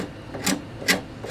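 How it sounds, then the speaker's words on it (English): A scraper pulls old lacquer finish off a wooden car panel in two short, raspy strokes, close and fairly quiet. "the finish that's in here is coming out with relative ease. It just scrapes right off."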